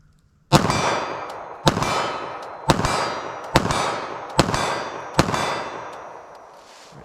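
Six rapid 9mm pistol shots firing G2 Research Civic Duty hollow-point rounds at a target 25 yards away, spaced under a second apart. Each loud crack is followed by a ringing metallic clang that fades out slowly.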